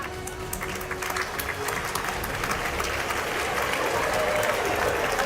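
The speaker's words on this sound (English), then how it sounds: "Parents are applauding," Parents in the audience at a graduation ceremony clap steadily, a broad wash of crowd applause that holds and swells slightly toward the end, with no voices standing out.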